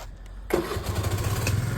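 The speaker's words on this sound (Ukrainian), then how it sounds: "Мотор працює як часи" A Suzuki Address V50 scooter engine starts abruptly after a quiet moment and settles into a steady running hum, close by.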